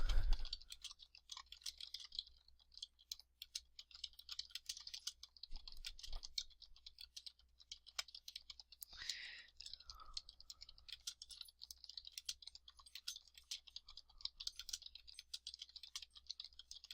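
Computer keyboard typing while entering bullet-point text on a presentation slide, a faint, steady patter of light key clicks running throughout with a brief louder clack near the start.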